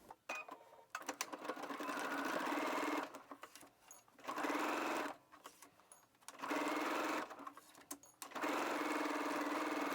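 Sewing machine stitching 5/8-inch shoulder seams on a garment, running in several steady bursts of rapid, even whirring separated by short pauses.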